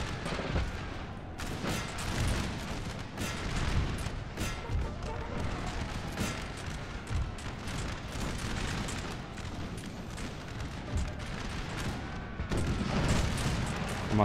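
Musket volleys and artillery fire from a Napoleonic battle in the video game Napoleon: Total War, a dense, continuous din of overlapping shots and booms, with a voice talking over it.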